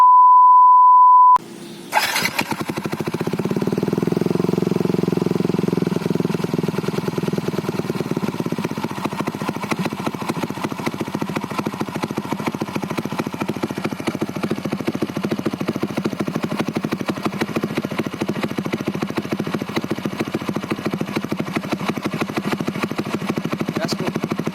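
A Yamaha NMAX scooter engine starts after a short steady tone and runs continuously close by, with a loud even buzzing drone and a slight revving swell early on.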